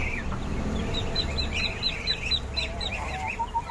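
Mixed poultry calls from light Brahma chickens, two hens and a rooster, with repeated chirps and clucking over a low background rumble, several birds close by.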